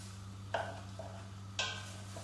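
Minced meat for chilli gets stirred in a pan, two short scraping strokes of a utensil against the pan over a faint sizzle and a steady low hum.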